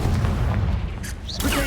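Confringo fire-blast spell exploding in the Hogwarts Legacy video game during a fight with spiders: a short, dense boom with crackling burst, sitting within continuous game audio.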